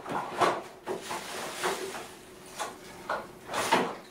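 A kitchen drawer is pulled open in a string of short scraping, rattling bursts spread across a few seconds, close by and moderately loud, with no voices.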